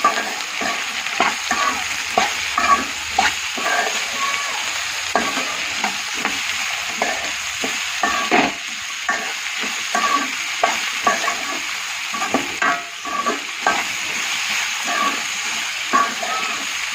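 Potatoes with salt and turmeric stirred in a sizzling frying pan, with a continuous fry hiss broken by rhythmic scraping strokes of a spoon close up.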